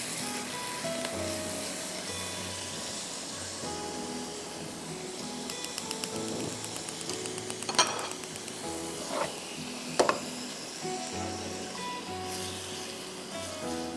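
Beef undercut fries over high heat with a continuous loud sizzle and hiss, broken by a few sharp pan and utensil knocks toward the middle.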